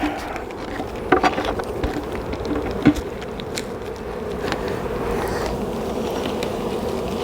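Honey bees from a swarm hum steadily around a hive entrance, a soft continuous buzz with occasional closer passes and a couple of sharp knocks.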